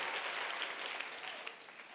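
Applause from a congregation during a church worship service, a steady dense patter of many hands lasting throughout, fairly faint and distant with no voices on top.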